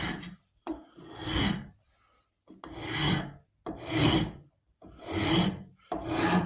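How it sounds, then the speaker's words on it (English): A hand rasp working the wood of a .50 cal St. Louis Hawken rifle stock, six rough scraping strokes in an even rhythm separated by short pauses, close and alone. "I usually rasp with one hand on the rasp, give me more control"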